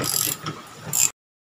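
A ratchet wrench clicks briefly while turning 13 mm screws on a Whirlpool AWM front-load washing machine being repaired for a broken spider arm, a short close burst of clicking that cuts off abruptly.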